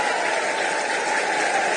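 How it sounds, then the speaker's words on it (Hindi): A political rally crowd claps loudly in welcome for Nitish Kumar, dense sustained applause from a large audience, steady and close, with no speech over it. "एक बार जोरदार ताली बजाकर नीतीश कुमार जी का स्वागत करने का काम"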